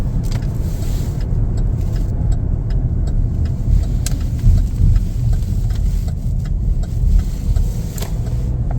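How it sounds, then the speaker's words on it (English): A 2024 Chevrolet Blazer 2LT AWD on a test drive: a steady interior road and engine drone with tire noise and occasional small clicks, continuous throughout with no talking. "Take it for a little test drive here."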